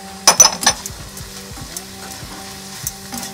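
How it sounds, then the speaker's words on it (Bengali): Chopped ginger and green chili fry in a pan, a few sharp clattering stirs up front giving way to a steady low sizzle with occasional scrapes. "সবগুলি উপকরণ একসঙ্গে মিশিয়ে নিচ্ছি। দু মিনিটের সময়ের মতো ভেজে নিতে হবে।"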